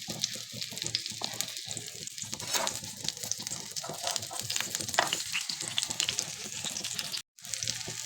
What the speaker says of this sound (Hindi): ये शैलो फ्राई होंगे।